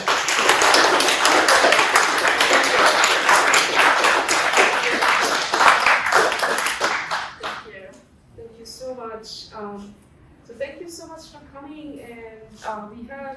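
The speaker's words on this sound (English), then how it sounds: "let's give her applause" Loud applause from an audience at an artist talk for about seven seconds, dense and steady, then it fades and people start talking nearby.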